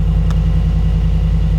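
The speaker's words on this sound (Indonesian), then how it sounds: "sekarang seperti biasa kita dengerin suara mesinnya dulu. Kita starter." A Brabus G800 G-Class AMG engine fires up and settles into a deep, steady rumbling idle, close and continuous, with a brief sharper burst near the start.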